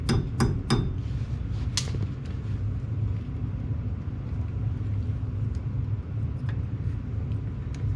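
Hammer tapping a cotter pin through a brake lock key during a brake upgrade: a few sharp metallic taps bunched at the start, then a steady low rumble of background noise with occasional faint clicks, no talking.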